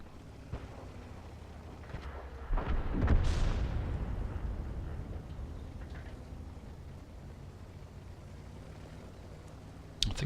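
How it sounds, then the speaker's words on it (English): Artillery in a World War II tank battle video game strikes a heavy tank: one deep, heavy boom followed by a long rolling rumble that slowly fades under a low background hum. "I think it's artillery that gets him."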